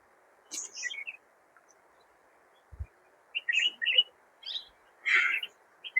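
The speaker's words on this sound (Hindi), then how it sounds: "सब तरफ चिड़िया का चहचहाट, शांत एकदम" Several birds chirp and tweet in short scattered bursts across a quiet, calm hilltop setting at the Ajanta Caves near Aurangabad, with a faint steady hiss of distant flowing water or a waterfall underneath.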